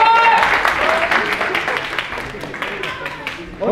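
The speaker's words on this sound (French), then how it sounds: "Merci pour l'applaudissement pour Vince." Applause among a small group of people at a casual gathering, scattered clapping mixed with talking and voices, loud at first and tapering off.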